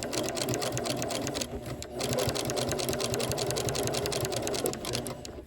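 A sewing machine stitches bias tape onto a fabric bowl cozy in fast, rattling bursts, with a brief pause partway through before the close mechanical chatter resumes.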